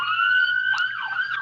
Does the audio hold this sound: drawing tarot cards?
no